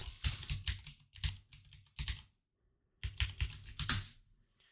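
Bursts of quick key clicks on a computer keyboard as a password is entered, close and fairly quiet, with a short pause before a final run of keystrokes.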